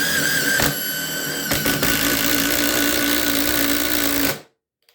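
A Ridgid sub-compact impact driver bores into treated lumber with a loud, steady mechanical whine and rattling hammer, two brief dips early on, then cuts off abruptly near the end.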